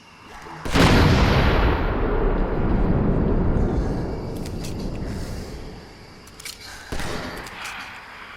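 A bridge in the zombie game Dead Island: Riptide is shot and blown up, one loud sudden blast followed by a long rumbling roar that slowly fades, with a few smaller bangs near the end.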